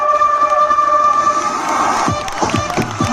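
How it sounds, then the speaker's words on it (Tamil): Spectators at a local cricket tournament cheer and shout in a loud, steady crowd roar, with sharp whoops and shrieks rising toward the end. "மக்கள் கை கரகோஷம்"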